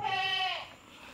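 A goat gives one short, close bleat with a wavering, nasal tone that fades quickly into quiet.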